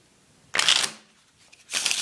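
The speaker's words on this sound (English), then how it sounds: "I'll quickly show you how well they shuffle" An Ellusionist Infinity deck of playing cards is shuffled twice, each riffle a brisk, crisp burst of fluttering card edges with a short pause between, close and clear.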